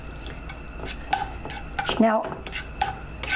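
Mediterranean tofu scramble is tossed and stirred in a pan, with soft scraping and a few light clinks of utensil on metal over a faint background hiss, and one brief spoken word.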